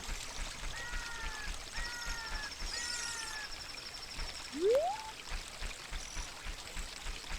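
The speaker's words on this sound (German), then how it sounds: "ist aber schon ziemlich chillig, so ein bisschen Wasser plätschern" Water at Lake Hylia in the video game Ocarina of Time laps and trickles in a steady gentle stream, with a few chirping bird calls above and a rising whistle-like tone near the middle.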